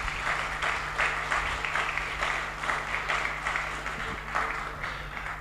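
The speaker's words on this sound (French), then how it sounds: "Un applaudissement un peu plus fort" Applause from mourners at a funeral, a steady sustained clapping with a rhythmic, pulsing quality, moderately loud over a low background hum.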